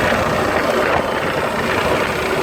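A Trane rooftop unit with a bad compressor runs with one compressor circuit on, a loud, continuous broadband roar and hum heard close up.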